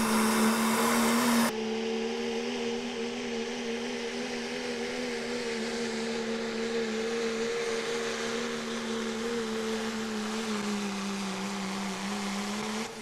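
A 2012 Dodge truck at a truck and tractor pull: a loud, steady droning engine note holds throughout, dips slightly in pitch late in the run, and is preceded by a brief burst of hiss at the start.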